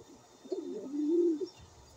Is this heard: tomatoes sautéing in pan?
no